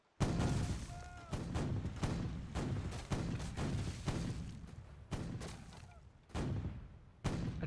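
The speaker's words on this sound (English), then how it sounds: "I turn slightly into the wind to fire another broadside." Ship cannons fire a broadside in the naval video game The Weather Gage, a series of about seven heavy booming blasts in an irregular rhythm, each followed by a rumbling decay, moderately loud.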